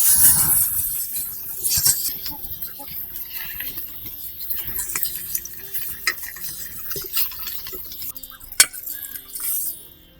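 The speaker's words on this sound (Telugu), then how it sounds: "ఇట్లా దోరగా వేపుకొని పక్కన పెట్టుకోవాలి." Dry fish pieces being stirred and fried in a pan, a spoon scraping and clinking against the metal over a soft sizzle, with irregular stirring strokes and a sharp clink near the end.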